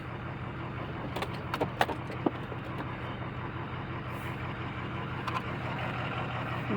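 A truck idling and pulling away on a test drive, a steady low engine rumble throughout with a few sharp clicks and jangles early on, moderately close and without speech.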